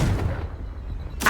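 A Confringo fire spell from Hogwarts Legacy goes off with a heavy, booming blast that fades out. A second sharp burst follows at the very end, close and loud.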